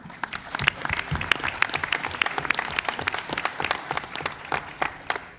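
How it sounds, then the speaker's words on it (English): Applause from an audience at a Board of Education meeting: a dense, lively patter of many hands clapping continuously at close range. "please join me in a round of applause for Ms. Joanne Gannon"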